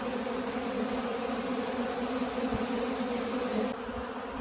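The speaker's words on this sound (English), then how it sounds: "It's just covered with bees." A dense, steady hum of many bees buzzing close by around honey and wax on a farm, a continuous droning swarm with no voices.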